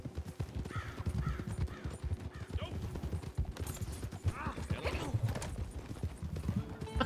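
Horse hooves clip-clop in a quick, steady gallop rhythm in the Red Dead Online video game, with a few whinnies and bird caws mixed in while a person talks over the sound.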